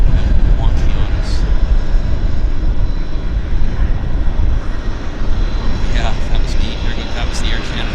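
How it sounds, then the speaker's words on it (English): An Air Canada airliner passes near Vancouver Airport with a steady, broad engine roar that holds throughout, while people talk quietly nearby. "That was the Air Canada LA flight."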